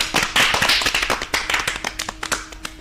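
A school programme audience claps loudly for a student, a dense burst that thins into scattered claps near the end.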